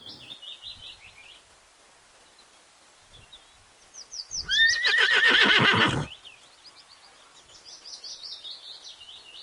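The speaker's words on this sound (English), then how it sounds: "H for horse." Horse gives one loud, close whinny of about a second and a half, falling and shaking, with birds chirping softly before and after.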